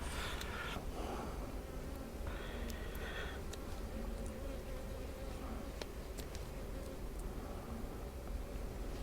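Honey bees buzz steadily around an open hive, a dense continuous hum close by with individual bees droning past, and no talking.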